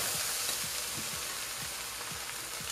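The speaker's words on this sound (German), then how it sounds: "Das lassen wir jetzt erstmal richtig anbraten. Jetzt ist es soweit, man hört es schön rutscheln." Steady, loud sizzling and crackling of food frying in a hot pan for a cheese soup, with soft rhythmic scraping as it is stirred.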